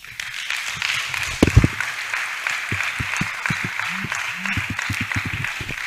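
Clapping from the audience at a university inter-faculty debate competition in Nigeria, a broad steady applause with a burst of louder hits early on, while a voice speaks over it.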